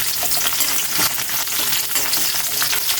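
Ginger and garlic fry in a pan of oil for octopus adobo in coconut milk, a steady close sizzle with soft crackling and the odd stir, with no talking.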